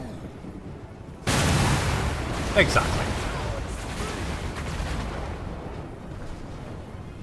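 Explosions and artillery fire in the Total War: Warhammer 2 battle game: a sudden loud blast, then a sharp crack, then a sustained rumbling roar that slowly fades, with someone briefly speaking over it.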